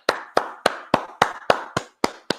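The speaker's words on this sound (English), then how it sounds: "Go ahead, clap it up." Hands clapping in a slow, even beat at a Feast of Tabernacles closing service, nine sharp, close claps spaced about a third of a second apart with nothing else heard.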